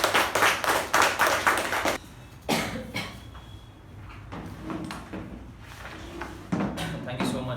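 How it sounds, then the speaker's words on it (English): A round of applause at a Toastmasters meeting, a burst of fast clapping from a small group close by that fades after a couple of seconds, followed by quieter room noise and scattered taps. "So please help me welcome the acting president,"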